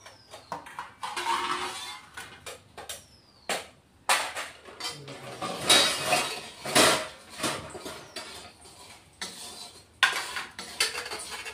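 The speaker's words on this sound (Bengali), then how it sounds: "এই যে কালো জিরা ফোড়ন দিচ্ছি।" Black cumin seeds spluttering in hot oil while tempering for a pabda fish curry: sharp, close crackles and pops come in irregular bursts, mixed with light metallic clinks of a utensil against the pan.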